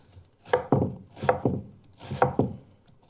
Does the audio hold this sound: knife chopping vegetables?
yes